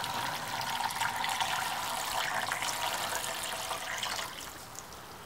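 Regular table vinegar poured into a plastic gold pan, a steady close-up liquid splash and trickle that runs for several seconds and then tapers off, with no speech.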